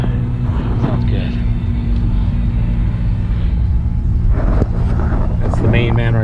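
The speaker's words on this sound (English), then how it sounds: "Look at that scrap truck." A scrap truck rumbles past with a loud, steady low-pitched engine drone that fills the whole stretch, while voices come and go over it.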